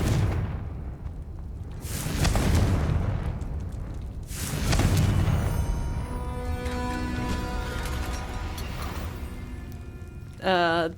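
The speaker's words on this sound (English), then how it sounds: "Confringo!" Fire spell blasts in the video game Hogwarts Legacy, two loud bursts of booming, crackling flame a few seconds apart followed by sustained magical rumble, with a voice shouting the incantation.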